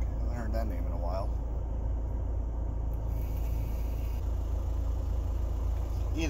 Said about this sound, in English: Either my car has an exhaust leak or it's just normally loud.